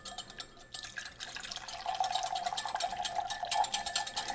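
Cornstarch and water are whisked in a container with a fork for a chicken stir fry, giving a faint, steady liquid swishing with light clinks against the sides.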